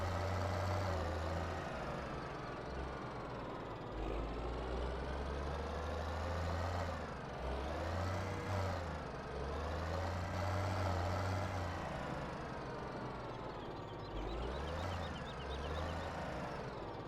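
Tractor engine in Farming Simulator 17 running steadily throughout, a loud continuous drone with low rumble that swells and eases repeatedly as the throttle changes, heard alone without talk.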